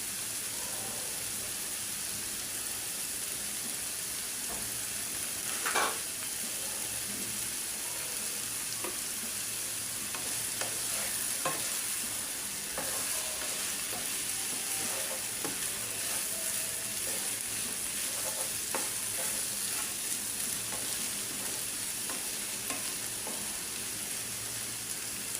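Malabar spinach frying in oil after being boiled with green chillies, giving a steady, even sizzle with a few soft spoon-stirring clicks scattered throughout, close and moderately loud, no voices.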